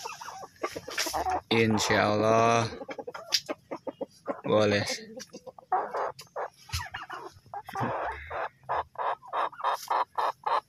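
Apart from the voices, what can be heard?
cemani hen clucking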